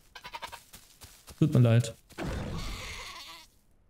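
A goat bleats in the survival game The Isle Evrima, a short loud wavering cry right after someone speaks, with more talk following.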